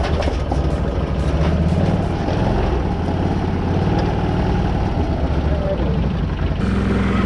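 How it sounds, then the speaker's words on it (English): A Can-Am Renegade XMR 1000 quad's engine runs steadily at a loud, close, low rumble with constant rattling texture, and a faint voice may be mixed underneath. "So I got the quad warmed up"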